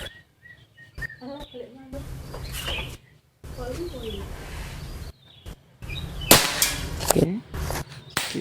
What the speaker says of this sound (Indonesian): Oke, ini ya. Tembakan kedua.